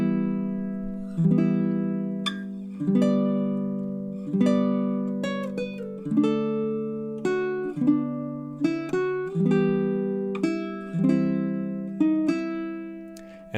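Baritone ukulele chord melody of Greensleeves, measures 8 to 11, played solo with steady strummed and plucked chords ringing out in a slow triple-time rhythm, close and clear with no talking.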